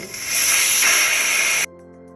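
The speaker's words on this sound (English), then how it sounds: "we're going to release the steam" A loud, steady hiss of steam rushing out of an Instant Pot pressure cooker valve after cooking mashed potatoes, for about a second and a half, then cutting off abruptly.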